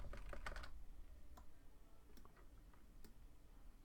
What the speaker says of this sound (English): I'm using arrow keys on my keyboard to align everything properly.